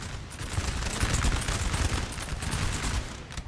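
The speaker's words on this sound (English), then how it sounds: "who's firing canister? Oh, these guys are. 8-pounders way in the back." Distant massed gunfire and artillery crackle from a Napoleonic-era battle with 8-pounder cannons firing canister in Napoleon Total War 3, a steady, dense, rumbling fusillade at moderate volume.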